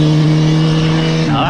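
A car with a loud engine passes close by in Rugby, heard from an e-bike as a strong, steady engine drone that fills the whole moment.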